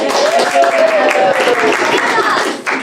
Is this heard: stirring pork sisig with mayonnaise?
no